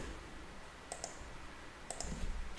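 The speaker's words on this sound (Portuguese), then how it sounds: "Vamos clicar aqui no link" A computer mouse clicks twice in quick pairs, two rapid double clicks about a second apart. The clicks are close and crisp over a low room hiss, with no voices.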